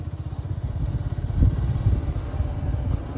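A motorcycle is ridden along a road, its engine putting out a steady, close, throbbing drone with slight rises in revs and faint rattles, and no voices.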